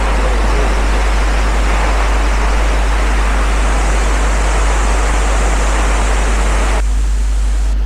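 Reichenbach Falls, a waterfall in the Swiss Alps, roars loud and close as a steady, dense wash of rushing water that softens slightly in the final second.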